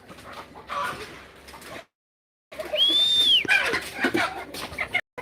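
Hen clucking around a chicken house at a home on Masbate Island, a close, lively run of calls with a whistly rising note, over outdoor background noise after a brief silence.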